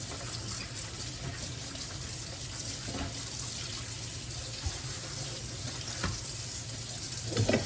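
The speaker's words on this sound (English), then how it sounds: "I'm gonna give it a quick rinse." Water runs from a kitchen sink tap as celery is rinsed under it, a steady, fairly quiet splashing stream with small surges near the end.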